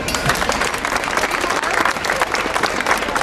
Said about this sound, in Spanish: este es un aplauso